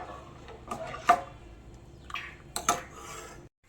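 A spoon stirring black urad dal porridge in a pot, scraping and knocking against the metal in a few irregular clinks and scrapes, fairly quiet and close.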